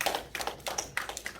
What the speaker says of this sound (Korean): 우리 예배를 받아주신 하나님께 영광의 박수 올려드리겠습니다